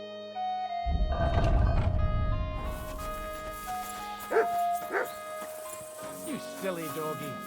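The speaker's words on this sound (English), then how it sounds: "You silly doggy." Dog barking in the medieval open-world game Kingdom Come Deliverance II: a few short yips and barks amid game music and ambient village sounds, following a loud burst of activity.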